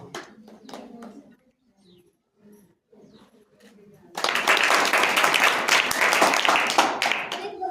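At a sewing centre's rakhi competition prize announcement, quiet murmuring and a few faint sounds give way to sudden, loud, sustained applause from a crowd that keeps going to the end.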